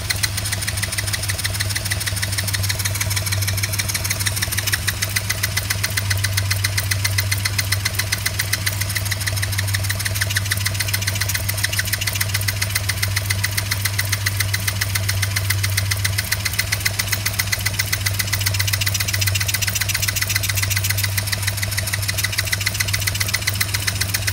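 A faulty Chinese quad engine runs roughly and steadily at close range, a constant knocking idle with a low hum and no revving, holding for the whole stretch.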